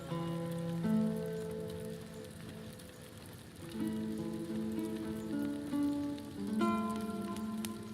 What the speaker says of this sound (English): Very hard to see with the rain and the shininess on everything.